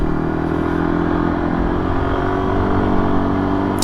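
A motorcycle engine drones steadily at close range while riding through town streets, a continuous rough hum with faint road clatter and no talking.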